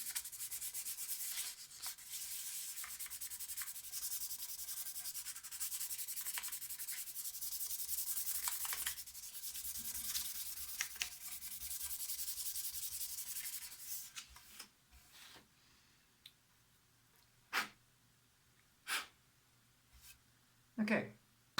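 Hand sanding of a wooden guitar body, a dense scratchy rubbing that goes on steadily for about fourteen seconds close up, then stops and gives way to a few separate soft strokes and knocks.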